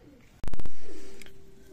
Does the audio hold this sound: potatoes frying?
no